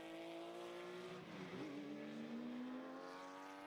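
A production sportscar, likely one of the Porsches in a Victorian championship field, races through Dandenong Road at Sandown circuit, its engine droning steadily with a pitch dip and recovery as it passes; continuous and fairly loud with no talk.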